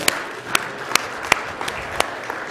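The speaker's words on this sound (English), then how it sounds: "we're just going to give a round of applause" Steady applause from a crowd, with a few louder claps standing out in a loose rhythm.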